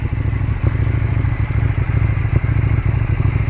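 A KTM 790 Duke motorcycle turns around at low speed, its engine giving a steady low throbbing rumble close by, with a couple of slight throttle blips.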